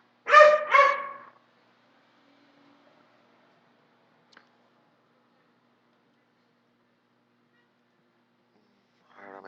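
Pet dog barking indoors, a quick pair of sharp barks at the start, then near silence with one faint tick, and another short bark cut off at the very end.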